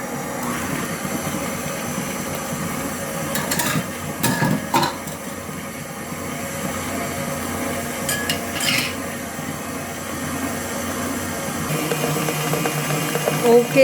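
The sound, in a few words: mixer beating cheesecake batter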